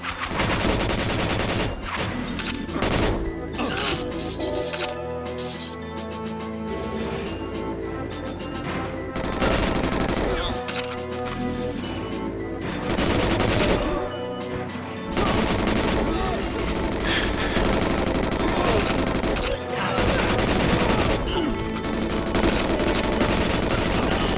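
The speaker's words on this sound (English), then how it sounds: "in a hail of gunfire." Heavy, continuous gunfire from the GoldenEye 007 XBLA remaster with rapid bursts and crashing impacts, loud throughout, with a voice occasionally audible beneath it.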